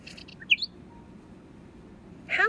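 Small yellow birds chirp in a few faint, brief bursts: a quick pair of tweets near the start and another short flurry at the end, with quiet background between.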